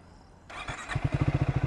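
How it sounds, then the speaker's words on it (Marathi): A motorcycle engine cranks and catches, then settles into a rapid, even idle thump, close and fairly loud. "झाली बाईक स्टार्ट"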